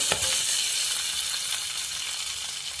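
Green chilies and a dozen garlic cloves roasting in a pan for thecha, producing a continuous close-up sizzle with faint crackles and no voices.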